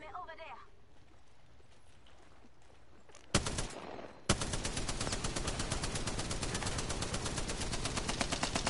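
Sustained automatic gunfire from an Apex Legends match, starting with a brief loud burst and then a dense, rapid, continuous stream of shots that dominates to the end.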